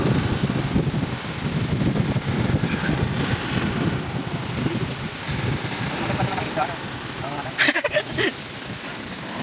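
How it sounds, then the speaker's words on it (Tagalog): A rain shower with thunder brings a steady wash of rainfall and a low rumbling layer underneath, with a sharper burst near the end while people talk nearby. "yan na ulan"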